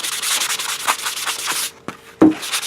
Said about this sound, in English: I like to use these sanding sponges, just Home Depot, Harbor Freight Tools, just these sanding sponges, and you want to give the entire surface a bit of a sand.